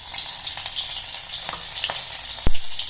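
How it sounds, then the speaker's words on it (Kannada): Garlic frying in hot oil for a North Karnataka pundi palya dish: a steady, close hiss of sizzling with scattered pops and crackles and one sharp clatter near the end. "ಎಣ್ಣೆ ಕಾದೈತಿ ಬಳ್ಳುಳ್ಳಿ ಹಾಕೊಂಡ್ರಿ"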